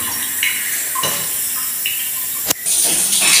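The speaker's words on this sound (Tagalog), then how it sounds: "Siguraduhin natin na yung tubig pupunta sa flow drain" Water flows across a tiled bathroom floor toward the floor drain, a steady splashing rush broken by a sharp knock midway, after which the flow grows louder and brighter.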